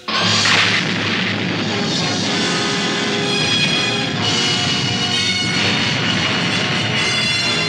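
A missile fired and exploding in the Stingray television show, opening with a sharp booming blast that rolls into a sustained, loud roaring rumble with further surging swells throughout.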